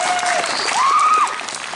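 Applause from a school concert audience honoring the Crimson & Black performers, a steady wash of clapping throughout with a couple of faint whistles or cheers rising above it.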